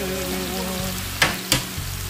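Garlic sauce added to a hot pan with shrimp and broccoli, giving a steady sizzle and two sharp clatters of stirring under a low humming background.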